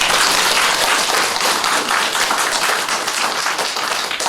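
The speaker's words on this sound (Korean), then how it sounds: "우리 모두를 위해서 박수 한번 보내주십시오." A church congregation at a Sunday Advent service breaks into dense, sustained applause, many hands clapping together loudly and evenly throughout.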